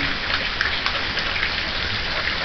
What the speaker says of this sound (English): Soaking wet, tropical storm winds,